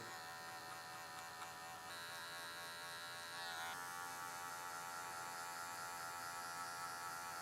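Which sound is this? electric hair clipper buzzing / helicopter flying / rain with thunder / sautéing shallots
electric hair clipper buzzing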